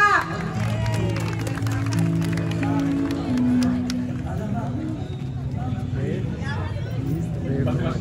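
Crowd applause at an outdoor prayer rally in San Carlos City rolls on steadily under an amplified voice and murmuring, with the clapping sounding broad and somewhat distant.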